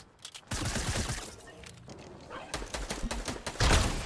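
Fortnite gunfire crackles in rapid bursts and scattered single shots, fairly quiet and distant, with game ambience and thuds between volleys.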